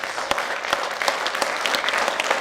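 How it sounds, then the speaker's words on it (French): A hall audience applauds at an award ceremony in Aveyron where 2016 titles and medals are handed out: a brief burst of dense, lively clapping with sharp individual claps standing out, fairly close and with no talk. "Et on peut l'applaudir jusqu'à ce qu'elle vienne ici même"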